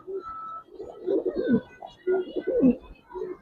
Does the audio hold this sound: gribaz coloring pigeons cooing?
yes